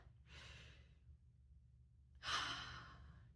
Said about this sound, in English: a deep breath